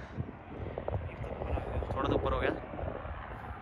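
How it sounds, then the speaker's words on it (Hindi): A helicopter flies below a hilltop at the Griffith Observatory, its steady rotor and engine drone filling the air at a moderate distance while people talk over it outdoors. "भाई, हेलीकॉप्टर भी हमसे नीचे है"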